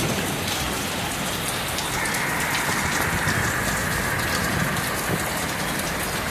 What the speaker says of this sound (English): You should have heard it on the roof just now.